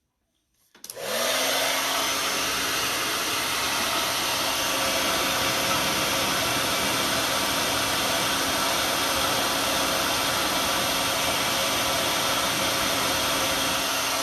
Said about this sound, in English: Okay, so now here's a little tip that I like to do is I grab my blow dryer.